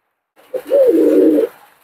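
A single Benaras high-flying pigeon gives one close, loud, drawn-out coo lasting about a second, standing alone against a silent background.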